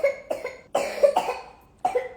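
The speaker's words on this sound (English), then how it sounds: "I was coughing." A sick person gives a run of harsh, wet coughs, four or five close bursts grouped together, then a short pause and one more cough, loud and near with no talking.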